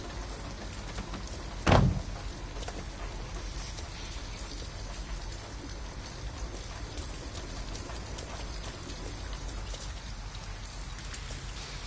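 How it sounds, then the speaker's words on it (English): Steady rain falling in the video game Detroit: Become Human, a dense even patter on surfaces throughout, with one sharp loud knock or thud early on. "At least we'd be out of the rain."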